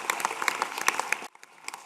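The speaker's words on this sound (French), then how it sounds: "on peut quand même t'applaudir" Applause at a mayor's New Year greetings ceremony in Croissy: a room of people clapping steadily and fairly faintly, then thinning out to a few scattered claps.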